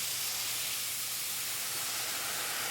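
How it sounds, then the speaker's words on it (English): Boiling water is poured onto rice fried in ghee in a kitchen pot, making a steady, loud hiss and sizzle of steam that runs unbroken throughout, with no voices. "And now we add our boiling water."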